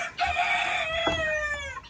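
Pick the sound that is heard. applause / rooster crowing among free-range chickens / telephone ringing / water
rooster crowing among free-range chickens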